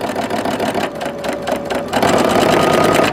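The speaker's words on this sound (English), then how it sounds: "I'm going to continue sewing once again, very gently, just holding it down" A sewing machine stitches a Swedish quilt block in short, close, rhythmic bursts. It pauses briefly, then runs at a faster, steady whir.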